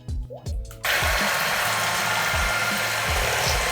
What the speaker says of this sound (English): So I'll just start mixing